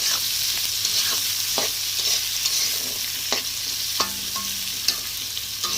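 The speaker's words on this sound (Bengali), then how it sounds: "পেঁয়াজ দিলাম, তারপর মশলা, পেঁয়াজটা লাল লাল করে ভাজা হয়ে গেলে" Onions fry in hot oil in a pan with spices added, giving a steady close sizzle broken by several distinct scraping strokes of a spoon stirring.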